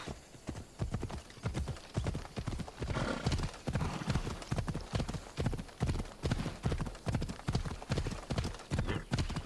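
Horse hooves clip-clop in a steady trotting rhythm in the video game Assassin's Creed Odyssey, close and continuous, with a brief whinny partway through.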